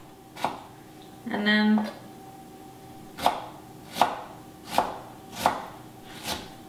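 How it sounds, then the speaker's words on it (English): A knife chops a red onion on a board in a run of crisp, evenly spaced thuds, five or six strokes close up; a brief voice and a short tonal burst come early. "I just chop the side of a red onion"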